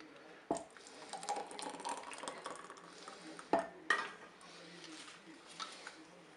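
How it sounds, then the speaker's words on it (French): Homemade peach and orange jam being poured into jars, heard as faint wet glugs and soft ladle and glass clinks, with a few sharper knocks against the pots, quiet and close. "Allez, on va verser notre confiture dans des pots."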